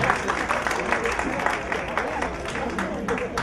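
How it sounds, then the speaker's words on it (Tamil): An audience at a birthday celebration applauds with steady, dense clapping from many hands, moderately loud and sustained throughout without a break. "எங்க நல்லா ஒரு கைத்தட்டல் கொடுக்கலாமே."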